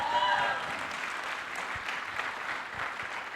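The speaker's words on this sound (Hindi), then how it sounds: "तालियां इनके लिए।" Audience applause for Shashish at a motivational talk, a steady mass of clapping from a crowd that runs throughout, with a brief tone and faint voices near the start.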